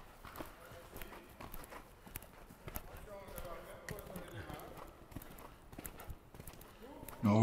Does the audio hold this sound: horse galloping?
yes